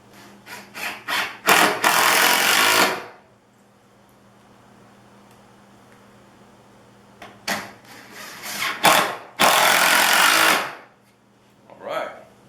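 A 12-volt lithium-ion impact driver runs in two loud, sustained bursts of a few seconds each, preceded and separated by short clicks and rattles, in a workshop setting.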